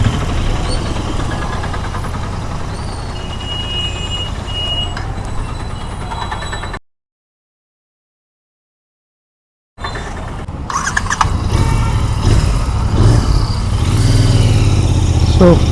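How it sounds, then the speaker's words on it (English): Heavy road traffic in Warangal: a steady rumble of truck and motorcycle engines with beeping and brake hiss, broken by a few seconds of silence before the dense traffic noise returns. "Oh, here it's huge traffic."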